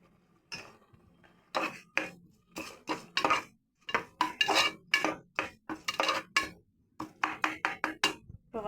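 A spoon scrapes and stirs spiced masala in a cooking pan for macaroni, in quick rhythmic strokes with short pauses between them, close up and with no talking.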